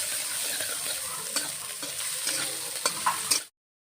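Rohu fish frying in a little oil for a Bengali mustard dish, a dense, close sizzle broken by a few scraping stirs against the pan, steady throughout before cutting off abruptly.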